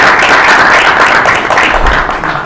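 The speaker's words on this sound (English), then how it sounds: "would you join me in a round of applause just to say thank you to the Hellenic Initiative?" An audience gives a round of applause at a presentation, steady dense clapping throughout, loud and close.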